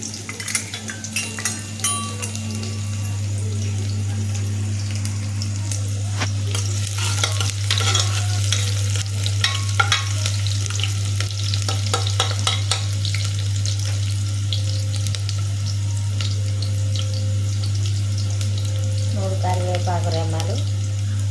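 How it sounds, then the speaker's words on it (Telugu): Onions and curry leaves fry in hot oil with a steady, close sizzle. A spoon stirs and scrapes the pan with light clinks throughout, and a low hum runs underneath. "నూనె కాగినాక, నూనె మంచిగా కాగింది. కాగినాక ఇప్పుడు ఉల్లిగడ్డ,"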